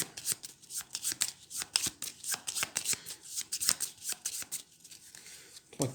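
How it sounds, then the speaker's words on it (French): A small deck of playing cards is shuffled by hand during a solo game of the board game Dinoblivion, giving quick papery riffles and taps in a rapid rhythm, close up, with brief talking. "Et je mélange."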